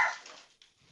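Small yappy dogs give one short, sharp bark that fades over under a second, with a faint second yip near the end, heard indoors.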